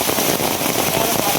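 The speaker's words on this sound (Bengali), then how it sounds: "প্রচুর পরিমাণে বৃষ্টি শুরু হয়েছে, প্রচুর বৃষ্টি।" Heavy rain falls steadily in a dense, continuous hiss with close, crackling patter on surfaces, loud and unbroken; a voice may murmur faintly beneath it.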